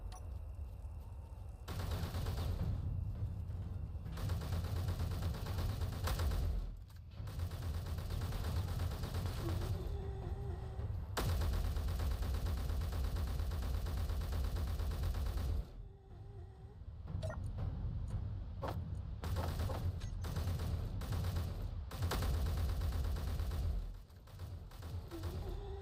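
Sustained automatic gunfire in the video game Space Engineers while shooting zombies, long dense bursts broken by brief pauses, loud and continuous with heavy low thumps.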